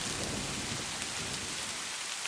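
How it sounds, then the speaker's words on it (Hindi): Heavy rain pours down in a dense, steady hiss, with a low rumbling undertone throughout. "और तेज बारिश में भीगते हुए कल्लू कौवे के घोंसले की तरफ आ जाती है"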